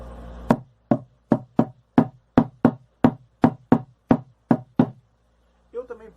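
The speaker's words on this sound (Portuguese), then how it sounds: "Agora eu vou fazer um som forte." A drum hit loudly, about a dozen strong, evenly spaced strikes in a steady rhythm with sharp attacks, followed by a brief voice at the end.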